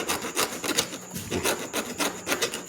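Rhythmic rasping strokes of a small hand saw cutting through wood while making a frog trap, steady back-and-forth rubbing at close range with no talking.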